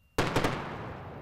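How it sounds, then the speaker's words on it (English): Sonic boom from a returning SpaceX Falcon 9 first stage over the Florida space coast near Landing Zone 1 at Cape Canaveral, a sudden loud sharp crack that rolls into a sustained rumbling decay. "a sonic boom passes across the Florida space coast as the Falcon 9 first stage"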